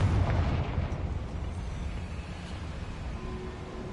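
Confringo fire spell blast in Hogwarts Legacy, a heavy, booming explosion that hits loud at the start and rumbles away over a few seconds, with no voice over it.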